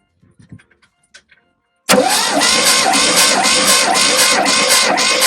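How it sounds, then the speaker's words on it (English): A Fiat 126 engine cranking over on the starter during a compression test, a few faint clicks and then a sudden loud, even, rhythmic churning that continues steadily to the end, close up with no talk. "Let's crank it over at that."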